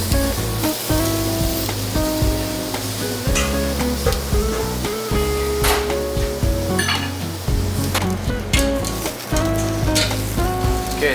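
Honey-glazed octopus frying in a hot pan in an alpine outdoor kitchen at Lake Louise ski resort, loud dense sizzling throughout with occasional metallic pan knocks and scrapes, close up, no speech.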